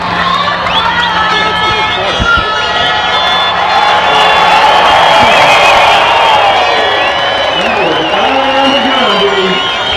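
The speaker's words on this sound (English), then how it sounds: "It's a rowdy crowd here today" Rowdy crowd at St. Peter's Fiesta outdoor sporting events, a dense steady roar of many voices with whoops and cheers rising and falling throughout, shouts swelling near the middle and a loud voice calling out toward the end.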